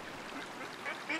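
Ducks quacking in the hunting game Way of the Hunt, a few brief calls standing out over a steady wash of outdoor ambience, moderately distant.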